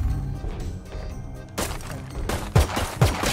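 Gunfire in the video game Valorant: a few sharp, loud shots and short bursts, close and punchy, separated by brief gaps.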